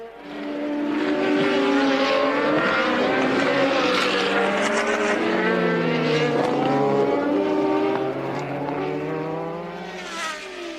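A 1983 Formula One car pulls away from its pit stop, its engine roaring loudly and rising in pitch as it accelerates off the jacks, then the sound fades a little near the end.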